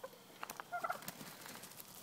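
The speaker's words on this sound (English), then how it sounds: "The turkeys." Turkeys gobble in a few short, rattling bursts, faint and slightly distant outdoors, with no talk over them.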